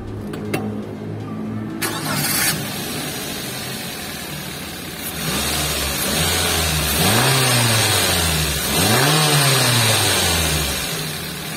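A 2022 Daihatsu Luxio manual engine cranks briefly and catches, then idles and revs up twice in rising-and-falling sweeps, close and fairly loud.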